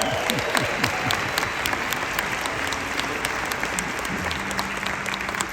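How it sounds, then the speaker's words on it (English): Audience applause at a motivational speech event, EXPCON2022, with a steady roar of clapping and crisp nearby individual claps standing out, plus a faint murmur and cheering woven underneath. "Give her a round of applause."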